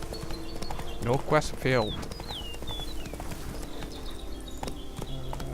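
Roach, a horse in The Witcher 3, trots in a brief burst of rapid hoof clip-clops against a steady game ambience, while someone talks over it.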